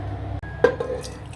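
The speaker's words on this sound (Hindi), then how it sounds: "ये मैंने 1 गिलास पानी का डाला है स्ट्रॉबेरी ड्रिंक बनाने के लिए" Water is poured from a jug into a glass while a strawberry drink is being made at home, a short liquid splash and trickle heard close up over a low steady hum, with no talking.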